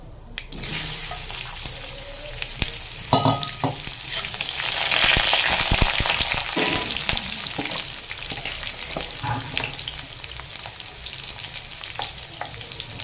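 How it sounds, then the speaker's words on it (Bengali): Black mustard seeds and raw mango are dropped into hot mustard oil in a kadai and fry with a loud, continuous sizzle and crackle. Stirring scrapes are heard, and the spattering swells in the middle before settling back to a steady hiss. "তেল গরম হয়ে গেছে, এবার দিয়ে দেব কালো সর্ষে ফোড়ন হিসাবে। এবার দিয়ে দেব কাঁচা আম।"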